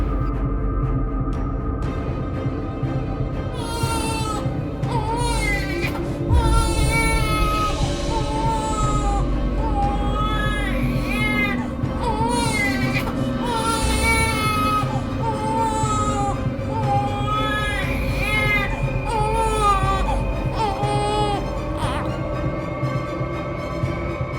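A baby crying in a television drama scene, with loud wavering wails that rise and fall over a continuous music bed for the whole stretch.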